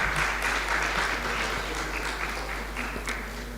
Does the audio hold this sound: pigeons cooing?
no